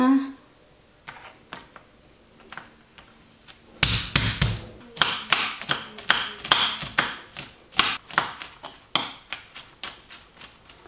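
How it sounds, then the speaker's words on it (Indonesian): Garlic is chopped finely with a knife on a board: after a quieter start, a fast, uneven run of sharp close taps and thuds continues steadily. "Chop finely"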